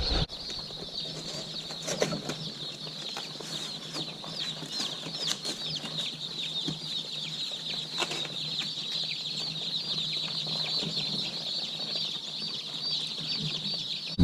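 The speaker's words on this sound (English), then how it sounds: "there's a box of baby chicks" Baby chicks, around fifty to a shipping box, keep up a dense, steady chorus of high peeping. Occasional rustling and scrabbling sound underneath.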